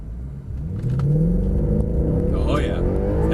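A Mercedes-Benz C63 Black Series in Sport Plus accelerates hard, its engine rising in pitch with a loud close rumble and rev climb, while voices talk over it.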